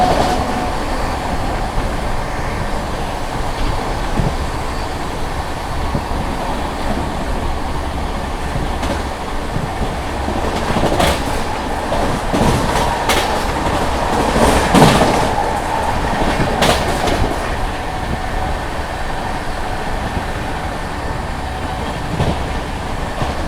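Andhra Pradesh Express running through monsoon weather in a general coach, a steady loud rumble of wheels and carriage noise throughout, with brief sharper clatters and rattles rising midway.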